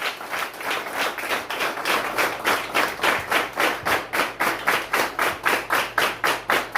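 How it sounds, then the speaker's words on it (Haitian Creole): A church congregation claps their hands together in a steady, fast rhythm, dozens of loud, even claps filling the room without pause. "Applaudis bon Dieu parce qu'il a fait ça."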